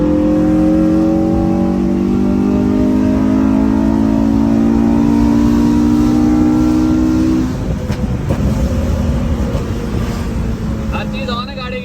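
Honda K20 Type R car engine revving hard and held against the rev limiter, a loud, steady high-pitched drone that bounces on the cutoff, then drops in pitch and settles into a rougher rev.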